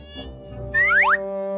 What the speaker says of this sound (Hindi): मुझे मक्खी मारने के लिए कुछ चाहिए।